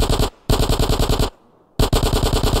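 Automatic AK rifle fire in GTA San Andreas, loud, close bursts of rapid evenly spaced shots broken by a brief pause and a longer gap before firing resumes.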